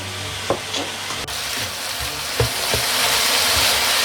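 Seasoned meat for san choy bao frying in a pan while being stirred, a loud continuous sizzle broken by a few spatula scrapes and knocks against the pan, with the frying growing stronger toward the end and no talk.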